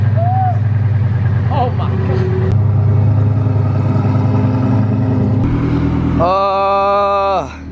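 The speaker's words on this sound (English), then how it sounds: "He has a gated manual Lamborghini Gallardo, and he's gonna let me drive it." Gated-manual Lamborghini Gallardo engine idling with a deep, steady rumble, then a sharp rising rev near the end, up close, with a surprised exclamation over it.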